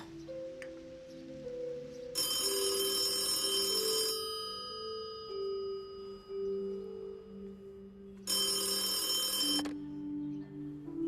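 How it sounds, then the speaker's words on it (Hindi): A telephone rings in two long electronic bursts separated by a pause, over soft background music. "ऋषभ बाबा का फोन है।"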